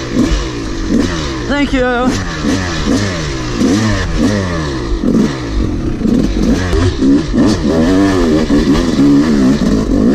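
A Yamaha YZ 250 two-stroke dirt bike engine starts and revs outdoors on a hill-climb track, with loud rising and falling blips up close and a voice briefly talking among the revs.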